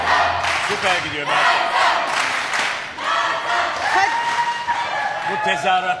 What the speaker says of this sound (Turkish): Tezahüratlar seni şımartmasın Meltem.